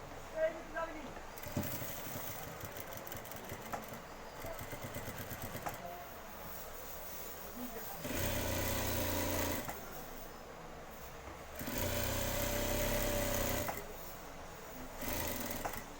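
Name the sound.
sewing machine stitching a panjabi collar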